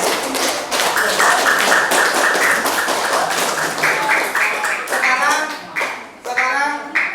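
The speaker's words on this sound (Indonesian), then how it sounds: "tepuk tangan untuk kalian semuanya" A seventh-grade maths class at a junior high school claps for the students, a loud, uneven mix of sharp, close hand claps and taps, with voices speaking over the clapping.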